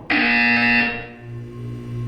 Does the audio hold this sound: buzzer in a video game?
yes